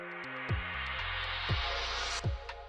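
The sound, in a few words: riser effect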